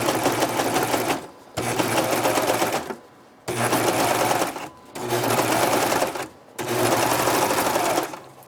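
A serger sewing machine trimming fabric for an exposed core cloth pad, running in five loud rapid whirring bursts separated by short pauses, close up and without talk.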